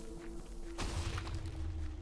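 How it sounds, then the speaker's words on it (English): A TNT explosion in the Minecraft Dungeons video game gives a single muffled, thudding boom about midway through. The boom is fairly quiet, followed by a low rumbling tail over a faint steady hum. "You can hear the explosion."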